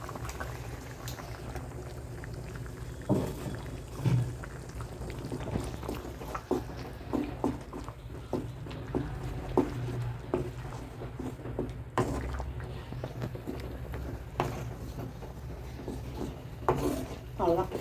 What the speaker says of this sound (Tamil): நம்ம தேங்காய் ஊற்றிடலாம்